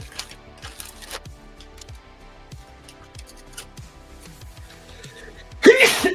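Someone sneezes once, loud and close, with a burst of breath at the end, after a stretch of faint clicking and tapping sounds at a painting and sculpting workbench.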